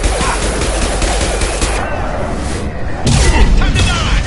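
Gunfire and a concussive shot in the video game Mass Effect 2: rapid bursts of shots and a heavy boom, loud and close, with a thumping impact near the end.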